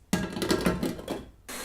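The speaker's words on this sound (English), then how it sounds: "we're going to mix this up on high for about another 10 to 15 minutes" A stand mixer whips Italian meringue buttercream on high, a close, steady whirring motor drone with faint rhythmic pulsing that briefly dips before surging back.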